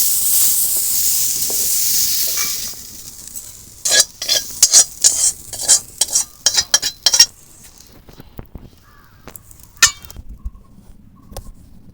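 Fresh garden cauliflower fries in a pan for a vegetarian roast. A loud hiss fades into a burst of rapid metallic spatula clacks and scrapes against the pan, then scattered softer knocks with no voices.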